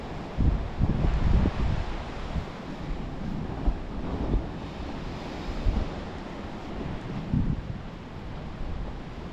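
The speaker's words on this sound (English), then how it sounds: "Sure if you'll be seeing all the waves" Ocean waves surge and crash repeatedly against a wall on the coast between Penzance and Land's End, a heavy roar mixed with wind buffeting the microphone.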